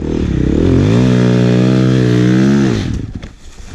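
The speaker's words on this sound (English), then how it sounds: "Oh no! He stalls it." A snowbike engine revs loud and steady up close with a strong buzzing drone for nearly three seconds, then sputters and dies away into quiet clatter as it stalls.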